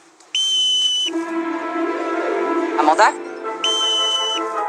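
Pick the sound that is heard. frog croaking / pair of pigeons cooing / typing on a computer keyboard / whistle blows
whistle blows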